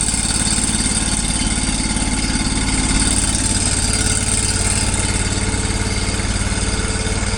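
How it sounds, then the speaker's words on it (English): Tractor engine running steadily with the PTO engaged, a close, loud, continuous low throb with a constant mechanical drone and no pauses. "PTO engaged."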